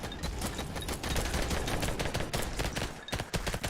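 Rapid automatic gunfire in the video game Vampire Hunters, a dense continuous stream of sharp shots at low volume for several seconds.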